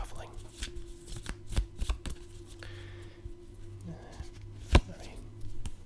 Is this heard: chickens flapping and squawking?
no